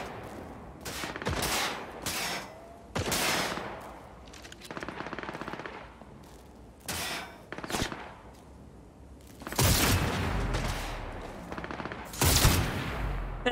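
Bursts of enemy gunfire in Cyberpunk 2077, several separate volleys of rapid machine-gun-like shots spread across the stretch, loud and close, with quieter gaps between them and no talking.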